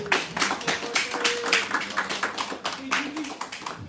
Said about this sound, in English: Please give a fucking warm round of applause for Matt Proctor.